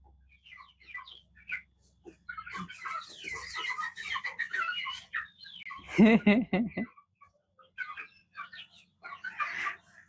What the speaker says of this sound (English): this bird, this is a heavy bird